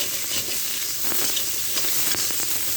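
Small crabs fry in oil with turmeric and chili, giving a steady, close sizzle and crackle with occasional sharper pops and a faint stirring scrape.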